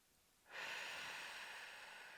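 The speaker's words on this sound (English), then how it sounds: "Breathing." One long, airy breath drawn in slowly and steadily during a gentle yoga session, close and soft, holding smoothly for over a second with no talking.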